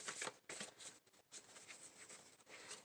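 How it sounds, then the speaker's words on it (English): A deck of tarot or oracle cards gets one quick shuffle, a close, soft flurry of papery riffling and flicking that lasts a few seconds. "We're going to do a single shuffle here."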